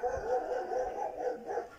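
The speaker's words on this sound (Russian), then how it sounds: "Собаки кого-то залаяли" Dogs bark in a village on an evening, a steady run of repeated, moderately distant barks with no talk over them.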